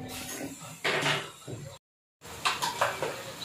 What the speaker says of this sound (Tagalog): Yan, haluin lang natin ulit.